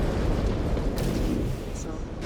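A mech's reactor breaches and explodes in MechWarrior 5: Clans, a heavy low rumbling blast that rolls on through the whole moment amid dense battle noise.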